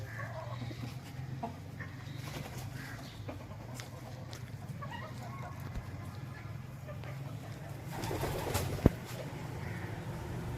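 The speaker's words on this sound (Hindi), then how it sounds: "असील मुर्गी है।" Aseel chickens in a hatching pen, soft scattered clucks and bird calls at moderate distance over a steady low background hum, with no talking.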